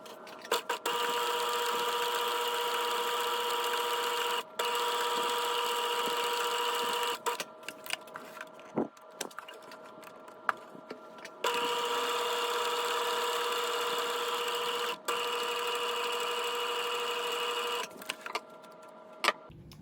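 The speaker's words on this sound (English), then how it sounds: "I'm going to stitch halfway between the edge of the fabric and my stitch line, and then I will stitch directly on my stitch line on the next row" A sewing machine stitches gathering rows along a fabric edge with a steady mechanical whirring drone. It runs in long stretches broken by brief stops and a few clustered clicks and taps in the middle.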